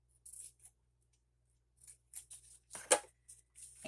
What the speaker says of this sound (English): So then we'll cut this one right off.